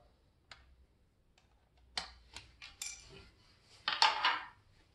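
Plastic cover pried off a Xiaomi robot vacuum with an Error 1 fault: a few sharp clicks and snaps, then a louder scraping crackle of the cover coming free, close and alone with no talk.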